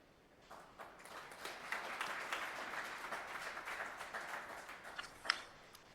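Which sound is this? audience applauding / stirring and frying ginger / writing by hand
audience applauding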